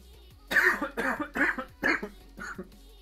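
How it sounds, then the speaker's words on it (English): Five coughs in a row, close and fairly loud, with short pauses between them and no talking. "Sorry for the cough."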